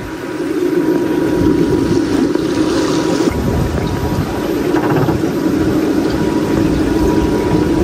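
A boat motors through the canal waterways of Giethoorn village in the Netherlands, its engine droning steadily and close by with wind and water noise across the whole stretch, with no talking.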